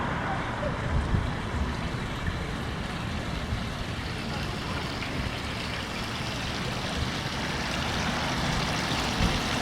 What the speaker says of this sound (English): A little fountain right there.